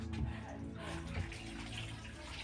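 Water running from a tap during household cleaning, a steady splashing gush with faint voices and clatter in the background.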